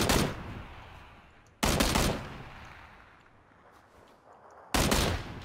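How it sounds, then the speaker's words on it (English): Video game gunfire rings out in three loud, sharp bursts spaced a few seconds apart, each followed by a long fading tail, close and dominant with no talking. "I shot him 5 times, bro"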